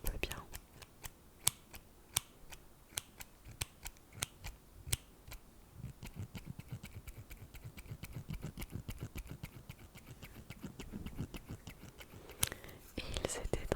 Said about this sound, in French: Ce sont des ciseaux très pointus qui coupent bien